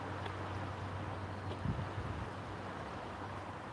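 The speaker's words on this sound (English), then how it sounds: "Can you guys hear how windy it is?" Strong, gusty wind blowing outdoors makes a steady, close rushing roar across the whole stretch, with a heavier buffeting gust midway.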